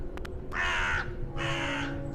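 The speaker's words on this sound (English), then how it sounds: "The crow noises." Crow caws in a horror video game set around Salem: two drawn-out, harsh calls in succession, fairly close and clear, preceded by a few short clicks.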